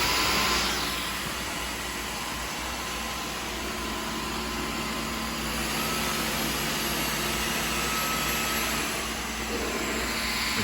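A Dyson cordless vacuum runs steadily and close by, a continuous broadband whoosh with a high motor whine that barely changes over the whole stretch, sucking up tea leaves from the ground.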